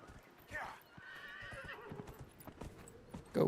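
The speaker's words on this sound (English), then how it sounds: "Go, horsey, go." A horse in the video game Dragon Age Inquisition gallops with rapid clip-clop hoofbeats and a whinny, fairly quiet, with a person talking over the game sound.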